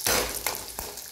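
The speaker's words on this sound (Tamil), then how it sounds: "நல்லா பொரியட்டும்." Dried red chillies fry in hot oil in a pan with a bright, close sizzle that crackles steadily and swells in a couple of short bursts as they are stirred.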